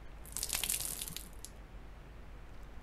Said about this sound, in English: When I open the valve, I will drain the water until all of the water has been removed.